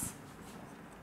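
Pen or chalk scratching briefly on a writing surface during an organic chemistry lesson, a faint, short stroke in a quiet room.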